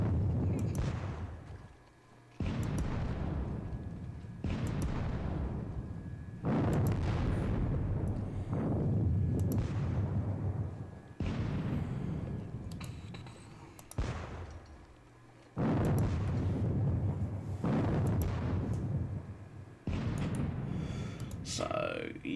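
Repeated booming artillery shots in a Napoleonic wargame of the Battle of Friedland, a burst of heavy blasts every two to three seconds, loud and close, with no talk over them.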